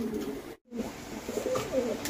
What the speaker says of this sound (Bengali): আপনারা দেখতে পাচ্ছেন এক পেয়ার রানিং সুস্থ সবল কাজি কবুতর